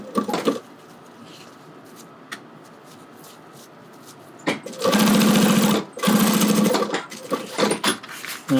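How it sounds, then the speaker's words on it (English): Sewing machine top-stitching a strap with hardware pieces threaded on, heard close in two loud whirring bursts of rapid stitching, with soft handling clicks and rustles before and after. "get ready to top stitch."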